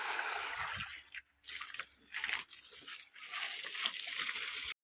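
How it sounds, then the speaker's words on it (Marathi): Water from a hose pipe sprays onto a house, a steady hiss with soft splashes and slosh, moderately close, dipping briefly before ending abruptly. "हे पहा, पाणी चालू झालंय. हे पहा, ही नळी आपली पाणी मारायची."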